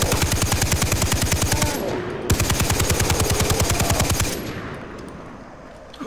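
Assault rifle firing in Far Cry 3, two long, loud full-auto bursts of rapid, evenly spaced shots separated by a brief gap, with a fading echo after the second burst.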